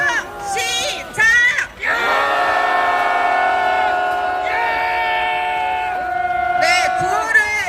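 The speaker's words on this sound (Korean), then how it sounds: "함성 시작!" A large crowd at a March 1st street rally and march in Seoul lets out a sustained, roaring collective shout, with whistling and cheering voices rising and holding loudly before briefly fading.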